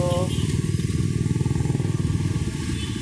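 A nearby motorcycle engine rumbles steadily with a throbbing low drone, continuous throughout amid traffic noise.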